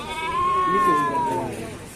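A goat bleats in a long, wavering cry at a Monday tribal market in Seethampeta, with people talking nearby over the crowd noise.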